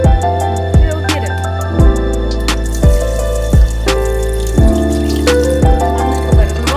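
Water poured out onto the ground while rinsing soil off fruit in a park, a steady close splashing stream broken by regular sharp spurts about every second.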